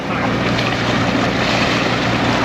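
Steady rolling of swell against a boat anchored in a Mexican cove, a dense continuous wash of water and wind noise on the microphone, loud and close with no pauses.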